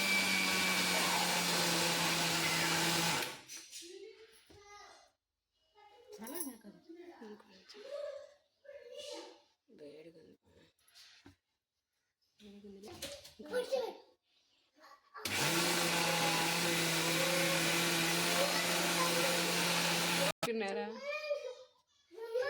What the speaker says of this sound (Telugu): ఇలా మిక్సీకి వేసుకోవాలి.